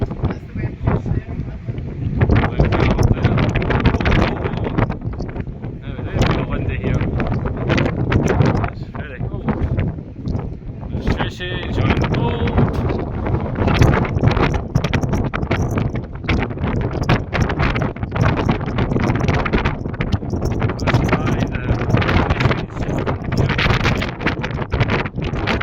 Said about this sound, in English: Yes, it's very windy because we're approaching the front of the ship.